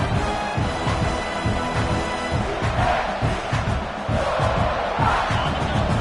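A big stadium crowd at a college football game, Clemson against South Carolina, roars and cheers continuously for the defense near the goal line, a loud sustained wall of voices with swelling yells.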